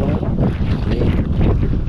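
Steady wind buffets the microphone, a low continuous rumble with gusty swells, like blustery air out on open water.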